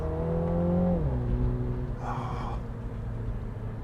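A Mini GP3 hot hatch driven hard out of a bend, its engine drone loud and constant, dropping in pitch around a gear change, with a short rush of noise partway through.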